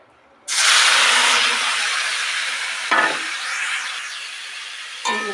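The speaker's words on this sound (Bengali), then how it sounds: "দেখে আমি কড়াইটা বসিয়ে দিয়েছি, এখন মাছগুলো আমি দিয়ে দেবো।" Fish, lote fish prepared for paturi, hits a hot wok with a sudden loud sizzle that holds as a broad, steady hiss, with a couple of brief clatters of stirring or a lid near the end.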